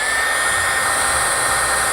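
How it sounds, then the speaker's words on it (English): A hair dryer blows steadily at close range onto hair wrapped around a metal can, a loud continuous whooshing roar with no pauses. "So let's turn on the hair dryer and see what happens."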